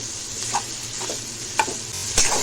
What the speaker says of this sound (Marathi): भेंडी आपण परतून घेऊया चवीनुसार मीठ टाकूया परत एकदा भेंडी परतून घेऊया